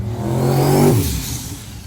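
A twin-turbo LS V8 car engine, converted from diesel, revs up loudly nearby, its pitch rising to a peak and then dropping away as the roar fades.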